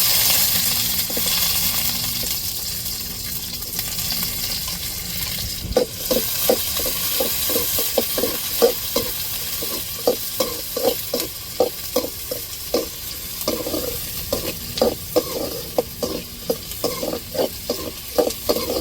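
Onions and whole spices fry in a pan for a chicken gravy, a constant sizzling hiss joined midway by a rapid, rhythmic series of metallic stirring scrapes.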